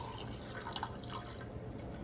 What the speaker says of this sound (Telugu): ఫస్ట్ ఇవన్నీ కడుక్కోవాలి కడుక్కొని వంపుకొని ఈ నీళ్ళు చెట్లకు పోద్దాం